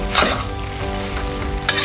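Shrimp fried rice stirred in a hot pan, a steady close sizzle broken by two louder scraping stirs near the start and end, with no voices.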